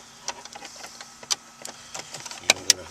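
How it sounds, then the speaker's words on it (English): Small ratcheting clicks and metallic ticks come from bolts being loosened on a stereo mount inside a Honda Accord dashboard, a close, fairly quiet irregular series of sharp taps with a few louder snaps near the end. "we're just going to loosen these bolts"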